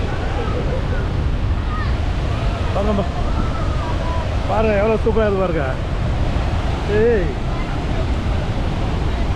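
Waterfall water rushes at Athirapally while a strong wind blows, making a steady, loud roar throughout. People talk and exclaim excitedly over it.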